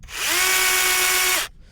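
A battery chainsaw, freshly fitted with its chain, spins up with a bright electric whine for about a second at steady speed, then cuts off sharply, close and without talk.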